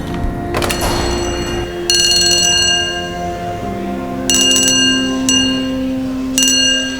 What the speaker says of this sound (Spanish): Ya voy a tocar el timbre.